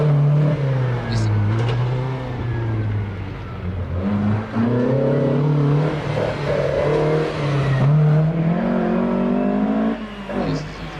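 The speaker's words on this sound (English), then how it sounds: "This is his rally car." A Stanza rally car accelerates hard up a hillclimb course at the Legend of the Lakes event. The engine note is loud and close, rising and falling through repeated gear changes for about eleven seconds.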